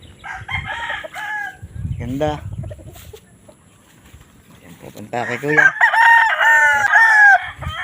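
Fighting roosters at a Filipino gamefowl farm crow loudly and cluck in bursts, with a long clear crow near the end, while people talk over and between the calls.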